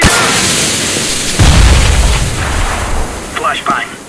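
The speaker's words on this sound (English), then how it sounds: "Grenade!" A grenade goes off in CS:GO, a loud low boom at mid-clip that rolls into a rumbling tail, set against steady game ambience with brief chirpy effects near the end.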